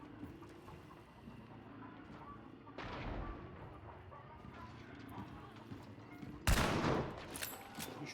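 Gunfire in the game Hunt: Showdown: scattered gunshots and a couple of heavy booming blasts, the loudest near the end, over faint background noise, with players talking in between.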